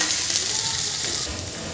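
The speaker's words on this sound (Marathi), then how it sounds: "इथे आपलं जिरं फुललं की त्यानंतर आपण मिरची, लसूण याची पेस्ट घालायची आहे." Chili-garlic paste sautéing in a pan with bloomed cumin for a bottle gourd bhaji, a loud, close, continuous sizzle with a brief stirring shift toward the end and no talking.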